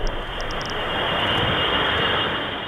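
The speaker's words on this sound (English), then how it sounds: "B-52 bombers were circling the globe 24/7, armed with live nuclear weapons" B-52 bomber engines roar in a steady, broad, heavy drone that holds at full loudness, with a few faint high ticks near the start and no voices.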